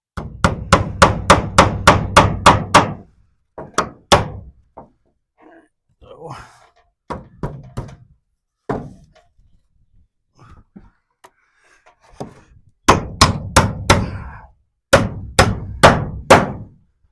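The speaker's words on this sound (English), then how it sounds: "I'm gonna start a nail and then we'll push and nail it." Steel nails are hammered into poplar wood siding on a shop wall, heard as a fast run of sharp, loud strikes, then scattered single blows, and finally two more rapid bursts. Someone talks in the pauses between the rounds of hammering.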